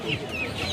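Japanese bantam chickens cluck at a poultry market, a short burst of close, loud clucking calls layered together.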